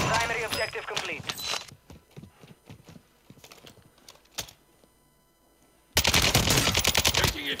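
Automatic gunfire in the Call of Duty Warzone 2 video game rings out in loud sharp bursts, with scattered single shots and rapid clattering runs in between, then a dense sustained barrage at the end.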